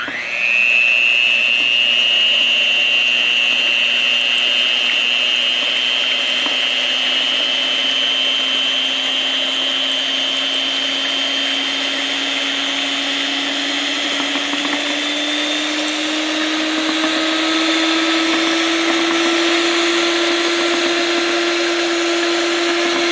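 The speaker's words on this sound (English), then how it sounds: "blend this with my electric hand mixer to make this thick." An electric hand mixer whirs continuously at close range, blending a mint chocolate chip cookie ice cream base, its motor whine rising slowly in pitch as the mixture thickens, with no talking.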